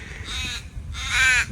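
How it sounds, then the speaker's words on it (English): Two harsh caws from crows, close and fairly loud, each lasting about half a second with a short gap between, over faint outdoor background at a carp-fishing lake complex. "the crows think that's highly amusing"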